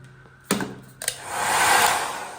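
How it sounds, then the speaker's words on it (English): A couple of clicks, then a hair dryer whooshes on and runs with a steady airy roar, close by. "Yeah, hairdryer works."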